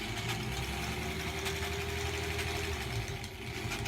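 Steady, continuous motor whir of a sewing machine stitching a fabric strip for a quilt block, running evenly at a constant speed with no pauses and no talking.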